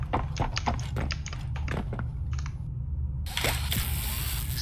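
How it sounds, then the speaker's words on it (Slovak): Heavy monster footsteps in Poppy Playtime Chapter 3 thud in a quick, irregular series, close and distinct, ending in a burst of broadband hiss. "Stále počujem jeho kroky."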